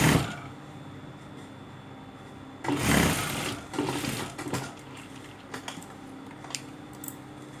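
Sewing machine stitching an armhole on a sleeveless garment, faint background hum broken by a few short bursts of rapid stitching mid-clip, quiet and close, with no talk.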